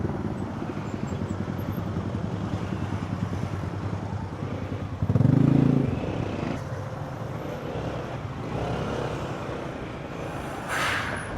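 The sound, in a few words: motorcycles riding in traffic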